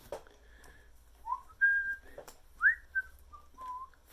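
A person whistles a short, wandering tune of bright, sliding notes with brief gaps, fairly close and alone.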